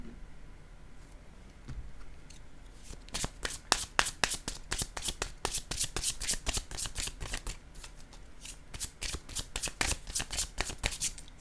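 Tarot cards being shuffled by hand, a fast run of crisp riffling snaps that starts after a quiet couple of seconds and continues steadily to the end, close and fairly loud with no talking.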